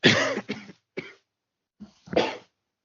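A nearby person gives several harsh coughs, a cluster at first, then a single short one, a pause, and two more rough coughs.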